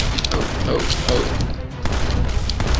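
Rapid, dense gunfire bursts from the video game Battle Airship fill the scene with continuous loud crackling and booms, blending into a busy game soundscape.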